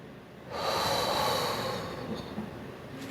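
A long, audible exhale during a calming breathing exercise, a steady breath out that swells and then slowly fades, close and alone with no talking.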